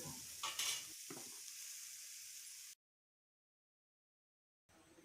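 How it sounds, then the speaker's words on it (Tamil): Spices sizzle and crackle in oil in a hot pan with a stirring scrape while making Tamil oil brinjal curry, then the sound cuts to silence before a brief return. "இப்போ நல்லா வதக்கி விட்டுக்கலாம்."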